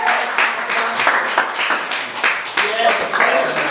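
Audience applause for an improv troupe at a live comedy show, steady clapping and cheering throughout, loud and close, with voices shouting over it.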